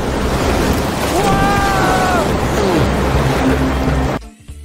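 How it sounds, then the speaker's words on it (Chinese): Ocean waves surge against a small boat out at sea in a loud, roaring churn of water and wind buffeting the microphone, with a brief tonal whine in the middle before the sound cuts off abruptly. "贝爷的小船这次居然经受住了海浪的摧残"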